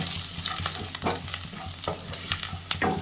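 Crushed garlic fries in hot oil over tempering spices, a dense, loud sizzle with irregular scrapes and clacks of a spatula stirring close by.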